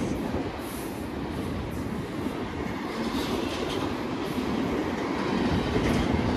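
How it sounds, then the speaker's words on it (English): A BNSF container freight train rolls past steadily at Fullerton, a continuous rumble with rhythmic clatter of wheels on track and faint high squeals, fairly close. "Yep, it's a container train."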